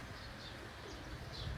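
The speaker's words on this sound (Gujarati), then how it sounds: "કુદરતની રીતે આવ્યો હોય ને આ પક્ષીઓનો કલબલ" Birds chatter and coo faintly at an open-air temple, soft calls drifting over a low background hum.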